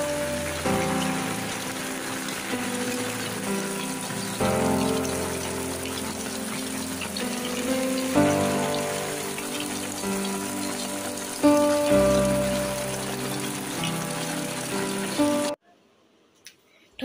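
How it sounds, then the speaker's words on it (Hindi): Rain falls steadily outside as a soft, constant hiss with some gushing water, under quiet indoor sounds, then it cuts to near silence at the end. "बाहर बारिश हो रही है।"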